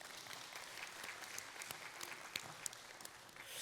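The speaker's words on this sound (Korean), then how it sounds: "우리 시장님께 박수 한번 보내주시죠" Clapping for the mayor at the 30th Gwangju Women's Convention, a sustained round of applause from the audience, heard faintly and at a distance.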